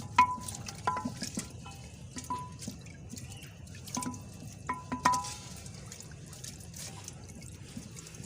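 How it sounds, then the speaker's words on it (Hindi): Meat being stirred with ginger, green chili and garlic paste in a pot for katwa gosht, giving soft wet squelches and scraping clinks at an irregular pace, close and fairly quiet, with no talk. "मिक्स करेंगे इसको।"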